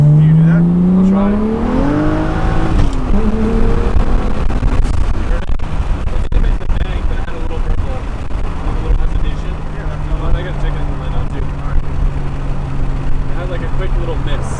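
A single turbo BMW 335i engine revs hard under acceleration, its pitch climbing and then shifting gears without lifting off the throttle, heard from inside the car with people talking over the loud drone.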